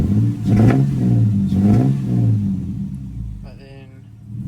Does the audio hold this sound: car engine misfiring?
yes